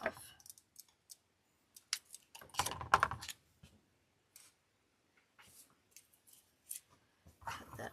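Scissors trimming a custom gnome wreath decoration, with a scattered series of crisp, close snips and clicks separated by short quiet gaps, a denser cluster of cutting in the middle.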